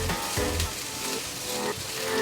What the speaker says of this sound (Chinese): 不停的翻炒